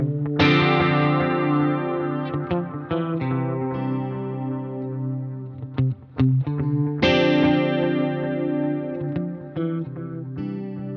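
An electric guitar runs through a CH1 Super Chorus pedal in a portable amp-free gig rig, playing ringing, shimmering sustained chords with a thick chorused, slightly distorted tone and short muted gaps between phrases.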